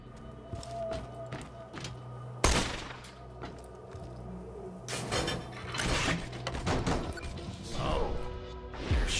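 Gunfire from weapons in Borderlands 2, a burst of sharp shots and crashing impacts amid game noise, with one loud crack near the middle and denser shooting toward the end.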